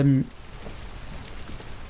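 Steady rain falls on surfaces in the Detroit: Become Human video game, a soft even hiss of drops after a brief low tone at the start, with faint murmuring underneath.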